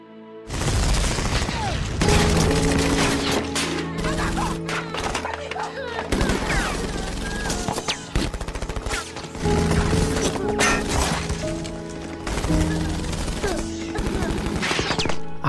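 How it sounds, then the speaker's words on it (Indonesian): Gunfire rattles through a residential settlement during a shootout between rebels and government soldiers, in loud repeated volleys and bursts over a low tonal backdrop for the whole stretch. "lagi-lagi pemukimannya menjadi tempat baku tembak antara pemberontak dan pihak tentara pemerintah"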